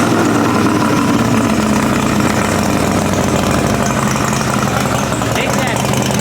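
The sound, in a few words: vehicle engine cranked up and idling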